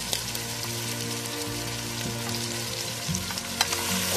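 Yogurt and spices go into white chicken karahi sizzling in the pan, giving a steady, dense frying hiss with light crackles throughout, close and unbroken.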